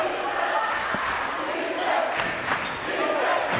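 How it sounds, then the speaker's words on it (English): A basketball crowd at an IHSAA high school boys and girls doubleheader, Chatard vs Covenant Christian, roars and cheers steadily in a gym, with a few sharp bangs rising above the din. "The crowd gets into it."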